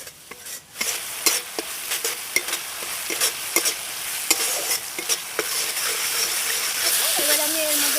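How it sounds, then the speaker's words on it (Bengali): Turmeric, chili and cumin powder masala fries in a pan with a continuous hiss, punctuated by frequent clinking stirs of a spoon against the pan. "এবার সব কিছু প্রথমে একটু কষিয়ে নেব।"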